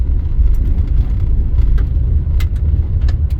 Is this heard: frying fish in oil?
no